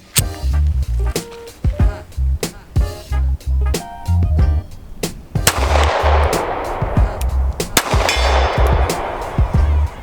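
Sharp, loud gunshots from a CZ P-10 C pistol crack out one after another at an uneven pace, each report ringing briefly, with a speaking voice heard between some of the shots.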